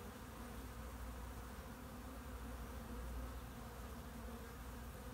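Dense, steady buzzing of many honeybees crowding a hive entrance as another group pushes its way into the colony, a continuous close drone with no voices.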